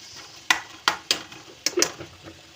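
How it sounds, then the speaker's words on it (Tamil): Onions being stirred in a pot for mutton curry, a spoon scraping and knocking against the metal in five sharp, close scrapes spaced unevenly, with no talking. "கொஞ்சம் கிண்டி விட்டுடலாம்."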